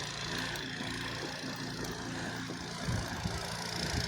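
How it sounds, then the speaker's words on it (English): A snow blower running steadily at a moderate distance while clearing a snowy Wisconsin sidewalk, a continuous low engine drone with slight surges and no talking. "Snow blower."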